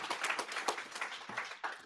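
Brief, faint applause from a conference audience at an Angular tech talk, a quick run of scattered hand claps with little else around them.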